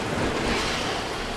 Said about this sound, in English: the water has started filling the room